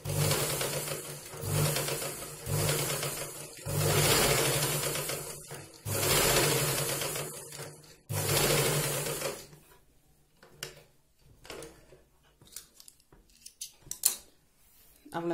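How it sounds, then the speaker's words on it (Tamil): Domestic sewing machine in a tailoring class stitching along a folded fabric edge with coloured thread, running in several loud sustained bursts with short pauses, then stopping; softer handling sounds and brief talk follow. "அப்படியே ஸ்டிச் பண்ணிட்டு வாங்க."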